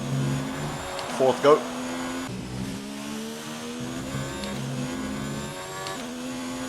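A Formula 1 car in the F1 2019 video game, racing at the Bahrain Grand Prix, holds a steady high-pitched engine whine through gear changes and a corner exit, while a voice talks over it.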